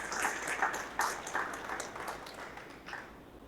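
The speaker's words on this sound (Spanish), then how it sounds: "¿Cuánto le da un fuerte aplauso al Señor por ello?" A church congregation gives a round of applause, a soft mass of clapping that swells at the start, then slowly thins and fades.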